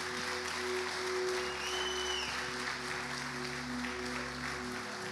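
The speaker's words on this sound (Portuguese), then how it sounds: "Aplauda bem forte o nome de Jesus." A church congregation applauds in a steady, dense wash of clapping that lasts throughout, with a low sustained musical hum underneath.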